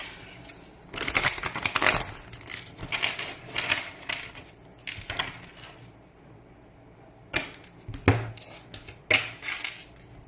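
Soft papery riffling and brisk slapping of tarot cards being shuffled, in several bursts with short pauses, close by and with no talking.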